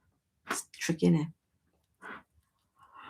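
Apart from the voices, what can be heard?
sneeze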